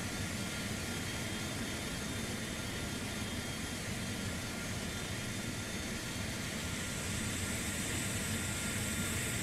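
A TAP Portugal Airbus A330 jet in a flight simulator rolls for takeoff with a steady broadband engine roar and hiss that swells slightly toward the end.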